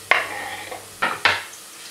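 Tomatoes, peppers and garlic tumble into a pot of green beans with a few soft clunks and wet impacts, three distinct drops over a low steady background, no voices.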